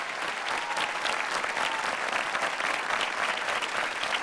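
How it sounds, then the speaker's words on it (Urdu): Dense, sustained applause from a large audience at a live stage event in Dubai, welcoming a guest on stage and staying even and loud throughout. "بھرپور تالیوں کے ساتھ محترمہ سمینہ پیرزادہ صاحبہ کا استقبال کیجیے"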